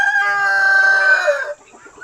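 A chicken on a homestead gives one loud, drawn-out call close by, lasting over a second before cutting off into near quiet.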